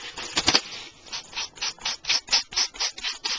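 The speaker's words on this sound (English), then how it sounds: "I could use one of my handy dandy little sanding tools that I keep getting from my nail salon" A small nail-salon sanding tool rubbed along the edge of a paper envelope, about a dozen quick rasping strokes in a steady back-and-forth rhythm, close and quiet.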